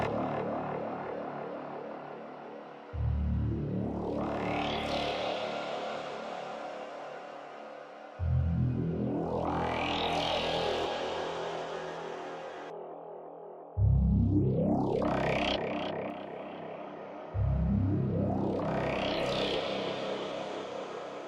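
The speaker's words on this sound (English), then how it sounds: "It's like a very crystalline reverb." A synth in Pigments 4 passes through a crystalline shimmer reverb, four long swelling notes that each rise in pitch and ring out into a bright, airy tail before the next one starts.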